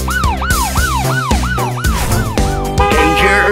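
A loud wailing siren sweeps up and down in quick repeated cycles, close by, then shifts into a steadier tone near the end.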